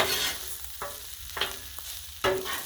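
Chicken fried rice stirred on an outdoor griddle, a constant sizzle punctuated by three or four sharp scrapes and clanks of a spatula on the hot steel, close and without talking.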